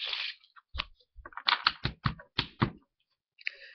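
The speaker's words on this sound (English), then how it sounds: "You can shuffle the cards." Playing cards being shuffled: a run of crisp, papery snaps and taps, about eight in quick uneven succession, then a brief pause and one more soft rustle.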